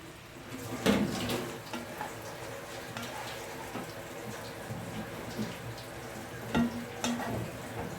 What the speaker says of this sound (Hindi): ये ऑयल हमारा गर्म हो चुका है, तो अब इसमें ब्रेड शामिल करते हैं।